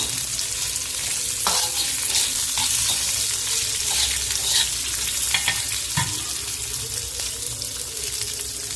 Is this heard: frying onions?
yes